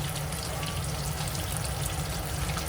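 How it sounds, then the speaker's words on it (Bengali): Hilsa fish fries in hot oil in a home kitchen, giving a steady, even sizzling hiss that holds without a break. Nobody speaks. "চলো, আমি মাছটা ভেজে তুলে নিচ্ছি।"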